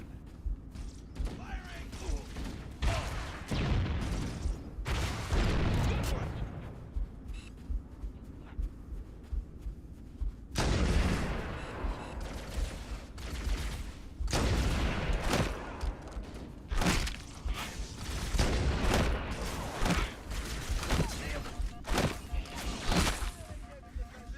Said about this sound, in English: we're gonna use the rockets here